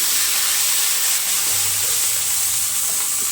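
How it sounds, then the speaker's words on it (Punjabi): Water poured onto a hot ghee-greased iron griddle set up for dosa hisses and sizzles steadily, a continuous bright steam hiss at close range with no voices. "ਤਵੇ ਦੇ ਉੱਪਰ ਫੇਰ ਆਪਾਂ ਪਾਣੀ ਪਾ ਦਵਾਂਗੇ"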